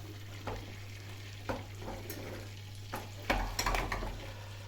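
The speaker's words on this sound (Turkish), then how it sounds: "Yağım da burada kızıyor tereyağım" Butter frying in a pan, a soft steady sizzle with scattered clinks and stirring scrapes of a utensil against the cookware, close by with no talking.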